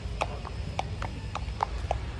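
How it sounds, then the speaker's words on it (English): A horse is ridden along a route in Baguio, its hooves clip-clopping in a regular, slightly uneven rhythm of sharp, close strikes, about three or four per second. "I'm riding a horse right now."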